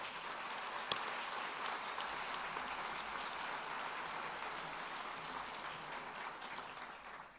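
A university audience applauds Julian Alvarez and the partnership at a celebration of a new university in South Texas, producing a faint, steady wash of dense clapping that holds evenly throughout with no voices over it.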